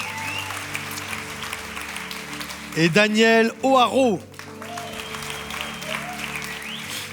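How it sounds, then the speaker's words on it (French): A church audience applauds guests in a steady bed of clapping that runs throughout, while someone speaks briefly over it in the middle. "on peut l'applaudir bien fort"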